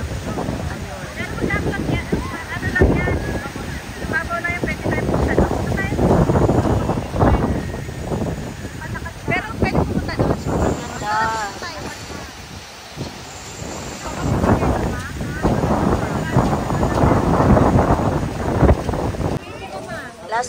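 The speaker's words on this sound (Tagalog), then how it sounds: "grabe, ang lakas po ng alon talaga" Strong ocean waves surge and crash at the Grotto on Boracay, a continuous roaring wash mixed with heavy wind buffeting the microphone, with people talking over it throughout.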